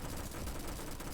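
An UZI submachine gun fitted with a 9mm upgrade fires a loud, unbroken automatic burst in the Roblox game Bad Business.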